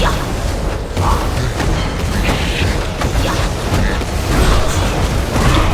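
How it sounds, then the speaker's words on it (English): Continuous rumbling game combat explosions and mechanical clatter from a Heroes of Newerth Reborn match as an enemy structure is destroyed, loud and dense throughout with no clear pauses. "You've destroyed an enemy structure."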